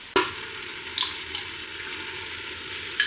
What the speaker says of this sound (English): we've added the garlic and the ginger and the curry paste now, so let's give it another good stir